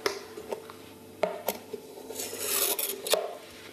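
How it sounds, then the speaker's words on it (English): Knife scraping and tapping around the edges of a dish of vegan marshmallow set with tapioca starch, a few sharp clinks and rubbing scrapes close by, with no talk. "So I'm just going to cut around the edges of the dish."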